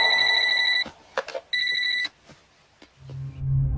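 A telephone rings in two electronic bursts separated by a short gap, clear and close, followed by quieter background noise.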